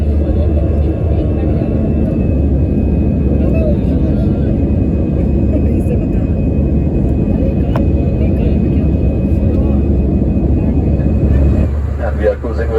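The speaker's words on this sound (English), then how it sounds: "Smooth takeoff." Air Asia India airliner taking off from Delhi, heard from inside the cabin: a steady, loud engine roar and deep rumble holding evenly throughout, with a faint high whine above.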